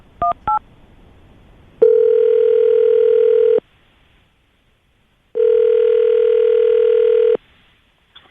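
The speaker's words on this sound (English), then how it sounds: "I'm going to call her right now" A telephone being dialed: a few short touch-tone beeps, then a steady dial-like tone held for about two seconds, a pause, and a second identical tone, loud and close with no talk.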